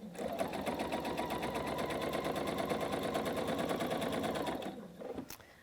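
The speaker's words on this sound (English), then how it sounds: "as we finish this last strip, just going to stitch on through" A sewing machine stitches through quilt strip pieces for Hunter Star trapezoid and diamond units, a fast rhythmic whirring chatter close by for about five seconds before winding down and stopping, followed by a small click.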